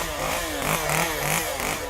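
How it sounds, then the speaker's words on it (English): A chainsaw at a Halloween haunted house revs continuously, its rough engine drone rising and falling in steady waves, loud and close with no voices. "Chainsaws."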